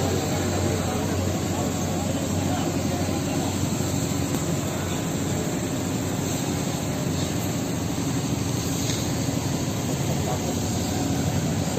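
Speedboats run along the river in Varanasi in the early morning, a steady loud engine drone holding constant throughout, with people talking beneath it.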